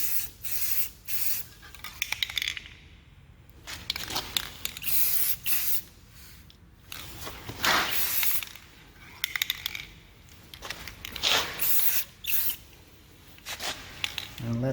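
Old Schwinn bike part being spray painted, with repeated short bursts of loud aerosol hiss separated by brief pauses, close to the microphone.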